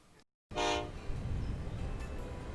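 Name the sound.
train running in video game Transport Fever 2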